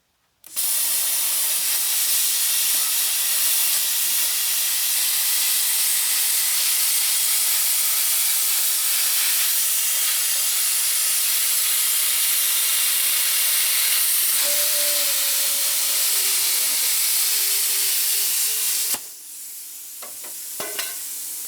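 A BestArc BTC500DP plasma cutter slicing thin steel on a Jeep gives a loud, steady hissing roar for about eighteen seconds, then cuts off, leaving quieter clatter near the end.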